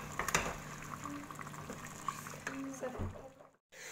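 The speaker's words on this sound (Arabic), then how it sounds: "وغادي نخليه يدي واحد الغليه وغنطفي عليه" Tagine sauce with chicken, olives and lemon bubbling as it comes to a boil, a quiet gurgling simmer with light bubbling pops under scattered clinks, ending in a brief silence.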